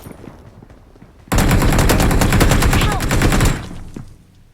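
Rapid bursts of gunfire in PUBG Mobile, loud and sustained for a couple of seconds, with quieter game noise before and after.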